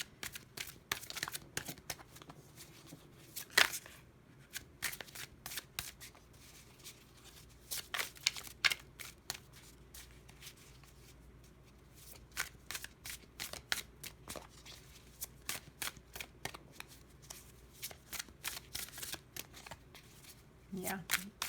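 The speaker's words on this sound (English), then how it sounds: "I'm going to put these back in the deck and I'm going to shuffle again" A deck of tarot cards is shuffled repeatedly in quick riffling bursts, close and crisp, with pauses between shuffles, and a voice occasionally speaks.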